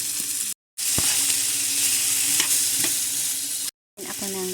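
Garlic and onion frying in a pan for black bean noodles, a steady close sizzle with stirring clinks and scrapes, briefly cut out twice.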